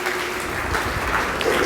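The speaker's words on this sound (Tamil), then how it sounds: "பலத்த கரகோஷம் எழும்படி கேட்டுக்கொள்கிறேன்." Audience applause fills a hall at an award ceremony in Kanchipuram honouring successful Group II exam candidates, a steady, dense wash of many hands clapping at close range, loud and continuous throughout.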